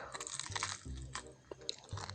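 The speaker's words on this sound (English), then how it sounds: "I'm chewing. No, you're smacking." Soft, close chewing with wet mouth smacks and small crunchy bites, a steady munching at low volume with no talk over it.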